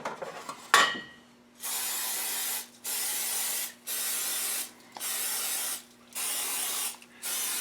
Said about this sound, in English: Then you spray your muffin pan so they don't stick.